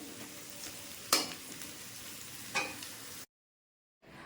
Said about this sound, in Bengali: এই যে এখন আলু ভাজা হচ্ছে এখানে